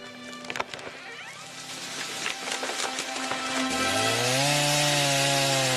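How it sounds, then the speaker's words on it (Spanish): A chainsaw felling chestnut trees runs through a woody cutting sequence, its whine rising and settling into a steady, loud mechanical drone as the cut finishes. "Mientras las motosierras emiten su característico ronroneo mecánico, los operarios van apeando cada uno de los árboles de la finca."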